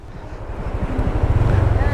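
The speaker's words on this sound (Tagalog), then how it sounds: "Grabe, mahangin dito guys." Strong wind buffets the microphone on a motorcycle ride along the Bongabon–Baler road in Aurora, a steady low rumble that grows louder and gustier toward the end, with no voices over it.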